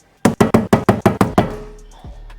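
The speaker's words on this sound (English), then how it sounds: "Hammer time." A hammer strikes a rusty brake part on a BMW E31 850i in seven quick, loud, evenly spaced knocks, followed by a ringing decay and a faint clunk.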